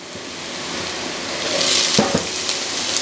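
Bacon and onions fry in extra virgin olive oil in a pan on the stove, a dense, close sizzle that swells and crackles with a few sharp pops and stirring knocks, no talking.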